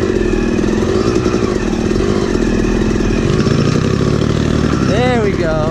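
A Kawasaki KLX 140 dirt bike engine revs steadily through a trail lap, a loud continuous buzzing drone close to the microphone with wind noise, rising in pitch near the end.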